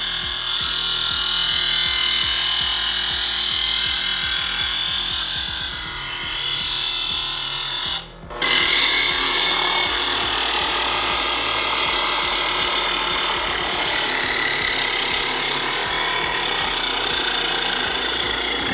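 A Vevor electric knife sharpener grinds a kitchen blade in its coarse stage, a loud continuous rasping whir that breaks off briefly midway and then resumes steadily.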